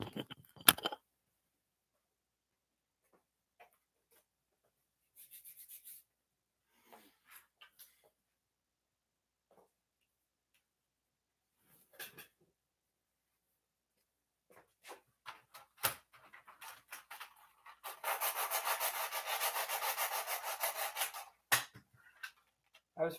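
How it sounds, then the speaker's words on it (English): A sanding block rubs against a plastic Nerf Rapidstrike blaster shell in short scattered strokes, then in a longer steady burst of raspy scraping near the end, with quiet pauses in between. "let me go get my sanding block real quick and make this easier"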